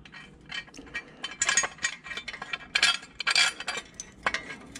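A ratchet wrench loosening a bracket bolt on a Harley Davidson 1200 motorcycle, close metallic clicking in irregular bursts mixed with tool clatter, no talk.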